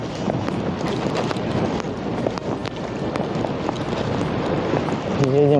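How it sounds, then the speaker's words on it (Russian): Rough, gusty wind buffets the microphone continuously during a bicycle ride, a dense rumbling roar with faint thumps and a brief tonal whine near the end. "Эх, и снова ветер."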